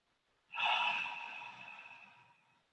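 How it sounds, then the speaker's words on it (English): A single slow breath during a hatha yoga session, a soft airy inhale that swells and then tapers off gradually over about two seconds, close and quiet with no talking. "we'll begin to breathe"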